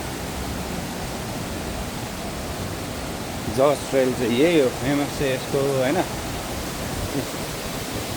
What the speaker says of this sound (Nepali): झरनाको चिसो पानी यही हो